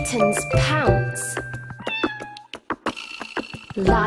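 A kitten meows repeatedly within a children's animal nursery song, the rising and falling mews sounding close and clear over light musical backing, with sung vocals around them.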